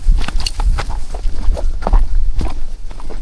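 Crunchy footsteps on a dirt hiking trail on Mount Apayang, a quick steady walking rhythm of several steps close to the listener, with no talking.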